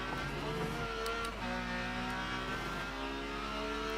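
Super Tourers race car in rFactor 2 braking hard for a corner at Pukekohe, the engine note dropping in steady downshift steps, loud and close with a constant drone, no voices.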